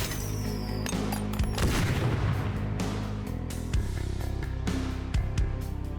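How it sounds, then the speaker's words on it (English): Suppressing gunfire in a turn-based tactical video game, heavy booming shots and bursts over a dense continuous game soundscape, loud and close, with no talking. "Suppressing fire."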